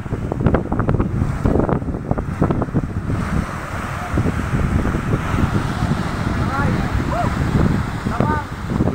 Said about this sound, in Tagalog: makikita nyo po dito yung mga alon ay silang medyo may kalakasan pa rin